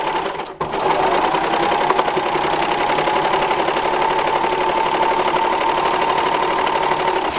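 A serger sewing machine gathers fabric into ruffles, running at a fast, steady, loud mechanical whir after a brief stop near the start, with no one speaking.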